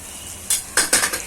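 Gravy with red chili, turmeric and garam masala being stirred in a pan, a soft sizzle broken by several sharp scraping clinks of a spoon against metal, close and clear, with no voices.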